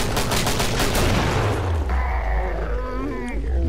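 Gunfire from the video game Killing Floor: a dense, continuous stream of rapid shots in the first seconds, giving way to a lower rumbling and warbling game sound, loud and close throughout.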